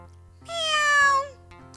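A cat gives one clear, drawn-out meow that rises and falls, close by over a quiet background with a faint low hum.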